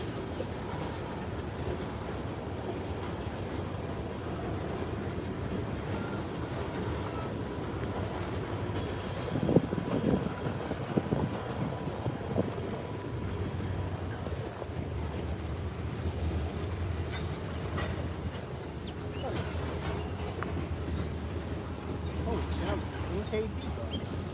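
Freight train of Norfolk Southern or CSX rolling past in Chattanooga, Tennessee, a steady rumble of railcars with faint wheel squeal and clanks, while someone talks over it.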